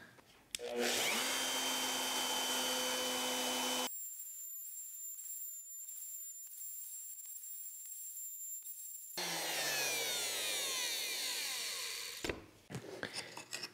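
Router cutting a quarter-inch dado slot in a wooden board over a scrap board, a loud whining motor with a harsh cutting roar, a steady high tone midway, then spinning down and clattering near the end.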